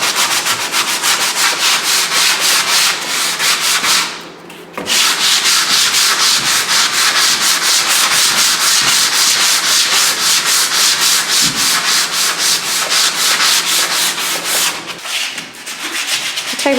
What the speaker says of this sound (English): just doing a final pass over with the sandpaper, using a fine grade, just get rid of any final little bits